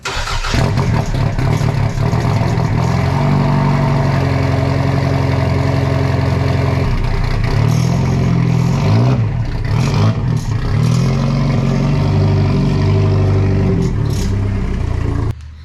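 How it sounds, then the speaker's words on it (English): A Toyota MR2 engine cold-starts with a brief crank, settles into a loud, close idle, blips and revs a few times mid-way, then returns to a steady idle before cutting off. "So let's get a cold start, bring it outside, because it's time to wash it."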